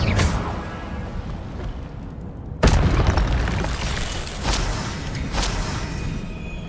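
Fire spells cast in Hogwarts Legacy burst out as sharp whooshing blasts, one loud hit near the middle followed by a couple of weaker bursts, over a continuous crackling, roaring background.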